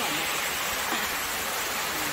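Songchu waterfall in a mossy mountain setting, a loud, continuous broadband rush of falling water filling the whole moment up close.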